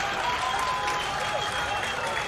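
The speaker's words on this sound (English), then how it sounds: "The crowd are cheering on." Crowd at a schoolboy rugby match between Paul Roos and Monument cheering and applauding, a steady wash of distant voices and clapping throughout, with a commentator's voice over it.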